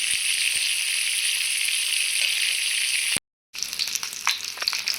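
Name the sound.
small local fish frying in hot oil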